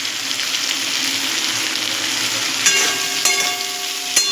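Potatoes fry in a covered pan over medium heat, giving a steady loud sizzle with a bright hiss, plus a few sharp clinks near the end.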